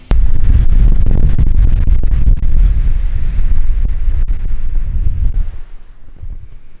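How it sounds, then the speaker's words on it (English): Strong cold wind gusts hard across the microphone outdoors during bow hunting season, a loud roaring buffet that slowly eases off toward the end. "That's some cold wind too"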